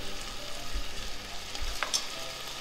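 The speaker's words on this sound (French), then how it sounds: "Voilà, on va les faire revenir gentiment." Onions browning in a pan for Hungarian goulash, a steady soft sizzle with light stirring scrapes and one brief bright clink near the end.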